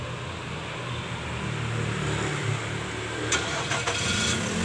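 A Nissan Serena C24 minivan's engine is started remotely with a keyless start system, turning over and settling into a steady idle, with a few sharp clicks partway through.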